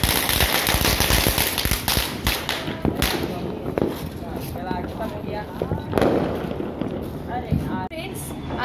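Sharp firecracker bursts crack repeatedly during Kali Puja and Diwali celebrations, some in rapid strings, over constant background chatter and a dense, noisy outdoor din.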